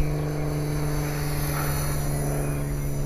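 An HK 450 radio-controlled helicopter flying aerobatics, a steady loud buzzing whine with a strong sustained motor tone, close by and unbroken for the full few seconds, with no talking.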